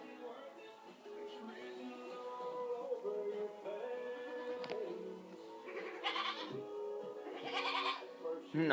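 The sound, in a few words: goats bleating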